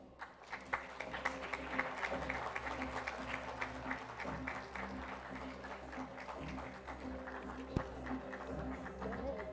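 Audience applause at an award presentation during a foundation day celebration, steady clapping from a crowd lasting throughout with a few sharper claps standing out, fairly close and moderately loud.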